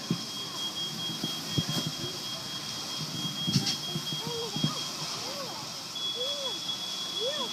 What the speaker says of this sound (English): Is that the other smoke alarm?